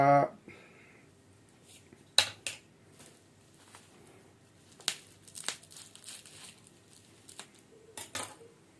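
A MikroTik hAP mini router's packaging being opened indoors: soft crinkling and scattered sharp taps and rustles in short bursts, close by but fairly quiet.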